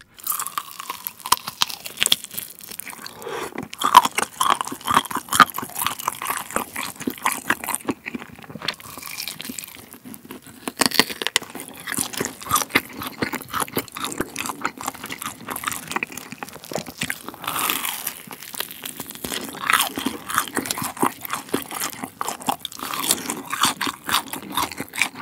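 Crispy fried pepper chicken from 60 Chicken is eaten close up, with loud, continuous crunching, biting and chewing and short pauses between bites; no one speaks.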